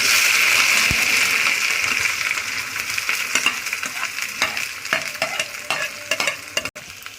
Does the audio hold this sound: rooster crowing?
no